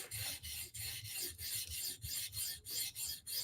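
Knife blade, a Spartan Harsey or ZT, sharpened on a 400 grit stone, a quiet close rhythmic rasping of about ten even strokes back and forth, with no talk.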